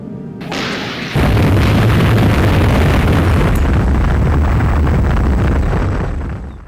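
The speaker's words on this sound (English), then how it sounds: "the 3 mines at Hill 60 were exploded" A huge deep boom from a WWI mine detonation at Hill 60 near Ypres, sudden and very loud, then a long rumbling roar that holds steady for several seconds.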